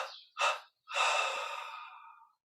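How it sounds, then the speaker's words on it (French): Deep exhaling breaths during guided yoga meditation, close and breathy: two short puffs followed by one long, slowly fading exhale. "Puis on prend une inspiration profonde. Expirons 3 fois."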